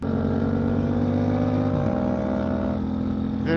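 A Yamaha MT-07 motorcycle ridden at a steady engine drone, heard up close, with one quick gear shift partway through where the pitch drops and then carries on evenly.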